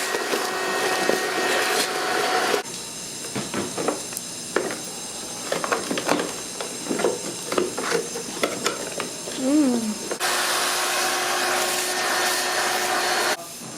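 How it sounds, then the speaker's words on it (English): Vacuum cleaner cleaning out the rusty bed of an old abandoned Honda four-wheeler: a steady motor whine that drops out into bumping and rattling as the nozzle scrapes around, then resumes droning; a voice is heard briefly. "Let's get our vacuum and vacuum that out."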